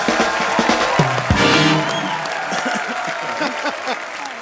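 Studio audience applause and cheering on a Hindi comedy TV show, a dense wash of clapping with crowd noise and a brief louder burst, steady and fairly loud throughout.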